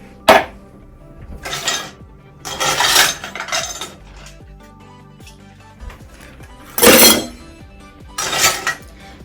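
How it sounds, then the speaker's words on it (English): Ice cubes clatter into a metal cocktail shaker for a cranberry-pomegranate mocktail, coming in several separate bursts of clinking and rattling with quiet gaps between them. "First, in our cocktail shaker, we're going to go in with some ice."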